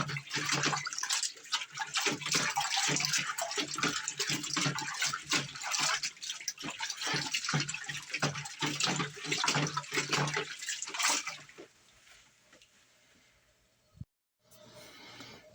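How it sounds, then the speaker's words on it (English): Laundry being plunged and scrubbed by hand on a scrub board inside a washer tub full of water: steady rhythmic sloshing and splashing strokes for about eleven seconds, close and loud, then a quieter stretch with a brief knock. "I'm just going to start adding my laundry and plunging and scrubbing"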